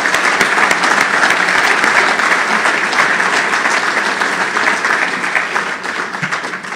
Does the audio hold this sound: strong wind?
no